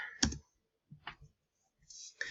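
Several sharp computer keyboard clicks as a search is typed, sparse taps separated by short silences, close and fairly quiet.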